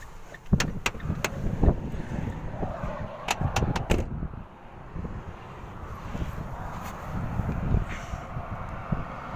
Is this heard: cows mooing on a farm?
no